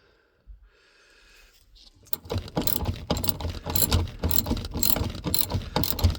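Mini handbrake cable adjuster being tightened, a quiet start giving way to steady rapid ratcheting clicks that grow louder and denser as the tension increases.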